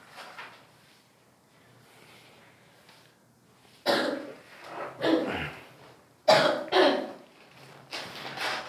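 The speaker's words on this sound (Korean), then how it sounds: "솔직히 감기가 있어서 기침을 했어" A few separate bursts of coughing, close and fairly loud, after several seconds of near quiet.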